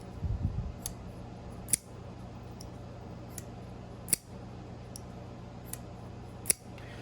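A Terrain 365 Mako folding knife is opened and closed: quiet, dull clicks and snaps, with three sharper clacks spaced a couple of seconds apart and fainter ticks between them, heard close up in a quiet room.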